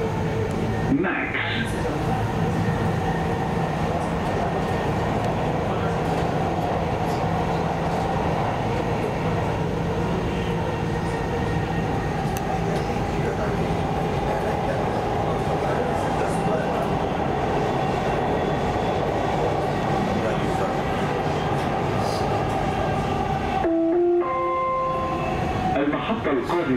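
A Dubai Metro Red Line train runs with a continuous rumbling roll and faint rhythmic rail clatter, heard from inside the car. Announcements play over it, and brakes squeal briefly near the end.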